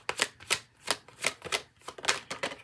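Tarot cards being handled and shuffled, giving a run of quick papery flicks and riffles in a steady rhythm, close and fairly quiet with no talk.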